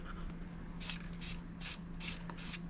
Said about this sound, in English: This is the perfect spray technique.